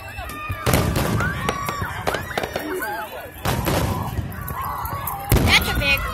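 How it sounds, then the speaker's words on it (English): Fourth of July fireworks bursting in a series of sharp booms and crackles, with crowd voices and whistles in the background. "I don't know if that's the reason why you see fireworks before you hear them."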